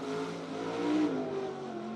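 A dirt track race car, number 69K, drones through a qualifying lap at BAPS Motor Speedway in York Haven, Pennsylvania, its engine note holding steady, then rising and falling slightly at a moderate distance.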